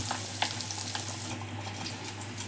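Bread rolls frying in hot oil in a home kitchen pan, a steady close sizzle and crackle with a constant low hum underneath, no talking.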